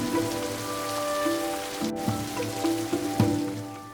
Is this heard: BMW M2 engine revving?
no